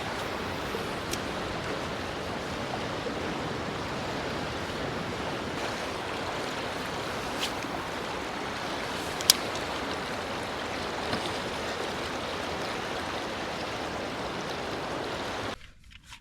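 River water flows steadily at a fishing spot, a constant broadband rush close by with a few faint clicks, cutting off at the end.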